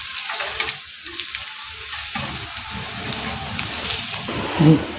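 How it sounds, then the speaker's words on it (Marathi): Onion, garlic and chili powder sizzle and fry in hot oil in a home kitchen, with a spoon stirring and scraping through the masala, a steady close crackle throughout. "आता आपण मिरची पावडर टाकून घेऊया आणि छान हलवूया, मिक्स करून घेऊया"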